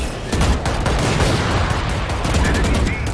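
Gunfire in the video game Valorant, including the Operator sniper rifle, as a dense run of sharp shots and rapid bursts through the whole stretch, loud and close.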